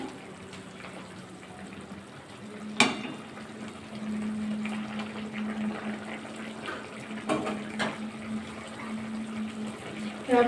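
Okra masala simmering in a covered pan over raised gas flame, a steady low bubbling hiss with a faint hum running throughout, a couple of sharp clinks near the start and middle.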